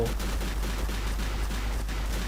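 Dense, continuous gunfire in the Garry's Mod sandbox game, a loud sustained barrage of rapid shots with no pauses and no talking.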